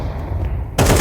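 Gunfire in a Counter-Strike video game match, with muffled rumbling in the background and then a loud, sudden burst of shots for the final fraction of a second.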